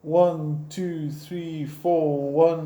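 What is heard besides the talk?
None of the usual background noises is heard.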